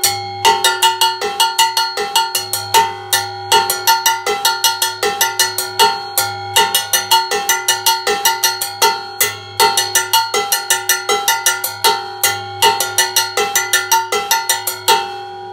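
Two cowbells on a drum set play bongo-bell and mambo-bell patterns together in an Afro-Caribbean groove, giving a bright, steady stream of metallic clanks, loud and close, over a low sustained hum.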